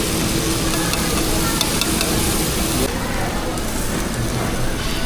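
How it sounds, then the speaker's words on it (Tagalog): Food sizzles steadily on a grill at an unlimited buffet in a Sambokojin restaurant at SM Southmall, a dense continuous hiss and crackle filling the space at close range, with no clear breaks. "Okay, grilling time."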